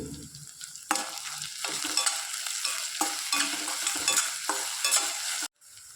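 Onions fry in a pan with a steady loud sizzle and repeated stirring scrapes, continuous for several seconds before cutting off abruptly near the end.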